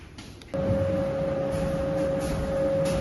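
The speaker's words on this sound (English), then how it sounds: "I have to apologise about the extractor fan noise." An extractor fan runs steadily in a workshop, kicking in after a brief quiet moment and then holding a constant hum with a clear pitched whine, alone and moderately quiet.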